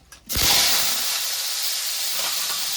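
Boiled potatoes dropped into hot oil with dried chilli, bay leaf and cumin trigger a sudden loud hiss that starts with a short splash and then settles into a steady, sustained sizzle.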